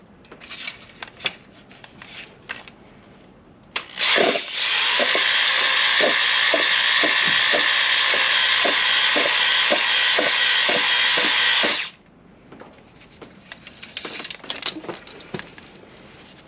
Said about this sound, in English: Plus, I'm only going to do a light hone.